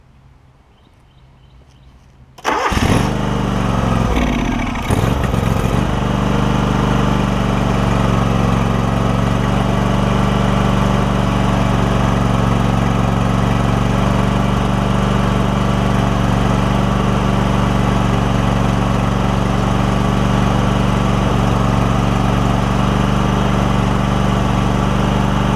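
John Deere LX188 lawn tractor, just fitted with a new carburetor after a fuel system overhaul, cranks briefly then catches and settles into a loud, steady, even idle that runs on without faltering.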